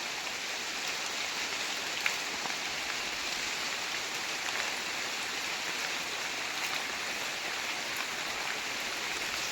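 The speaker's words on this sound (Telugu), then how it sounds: "బట్ వర్షం పడుతుంది, అదొక్కటే డిసప్పాయింటెడ్" Steady rain falls near a hill stream in a remote tribal area, a dense even hiss of drops on surfaces blended with flowing water, continuous and fairly soft with no voices.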